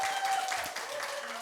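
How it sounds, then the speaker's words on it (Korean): An audience at a Korean folk singing arts education event gives a brief burst of steady, moderate applause with a faint tonal hum underneath. "다시 한번 박수."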